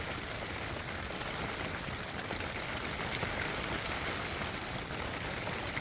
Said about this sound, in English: It's been raining all night, and now it's raining this morning